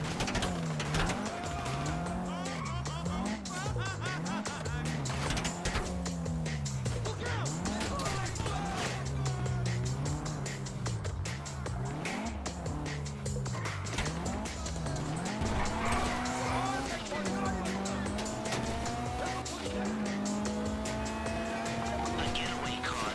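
A getaway car driven in Grand Theft Auto V, its engine droning steadily and rising and falling in pitch with each gear change, tires squealing and skidding at times over a constant roar of game traffic and music.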